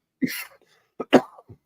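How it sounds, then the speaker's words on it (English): Two or three sharp, throaty coughs close to the mic, with a short pause between bursts and a softer one trailing at the end. "Hold on, I got cough."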